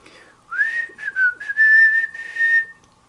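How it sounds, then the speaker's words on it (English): A person whistles a short, clear melody of rising and sustained tones, close and alone against a quiet background, lasting a few seconds. "I can whistle."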